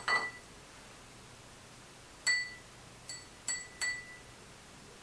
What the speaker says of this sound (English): A glass container, which sounds different again, and sounds different. Glass on metal or glass on glass.